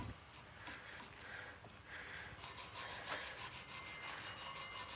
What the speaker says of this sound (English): I'm gonna scrub it with it's a stainless steel brush